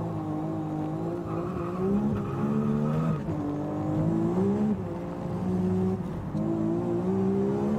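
A Toyota Supra races at around 197 mph along a wet public road in the UK, its engine holding a loud, continuous high-revving drone whose pitch climbs and dips through shifts, with no voices.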